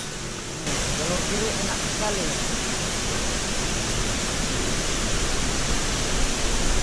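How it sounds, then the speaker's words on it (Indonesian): Swollen river rushing hard after upstream rain at an expedition base camp, a steady loud broadband roar that holds unbroken from start to finish, with faint voices underneath early on. "Hujan di hulu membuat debit air sungai meninggi dan deras."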